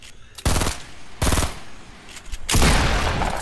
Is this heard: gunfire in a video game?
yes